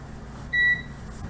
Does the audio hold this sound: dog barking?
no